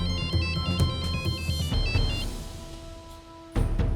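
An electronic phone ringtone in an Indian family sitcom plays a bright, looping beeping melody for a few seconds, loud and close, then breaks off before a fuller musical burst at the end.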